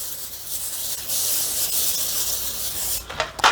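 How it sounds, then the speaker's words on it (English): A steady aerosol cooking spray hisses onto a foil-covered jelly roll pan for about three seconds, close and fairly loud, followed by a couple of short rubbing and handling noises. "I'm going to take my favorite spray, and I'm going to spray the jelly roll"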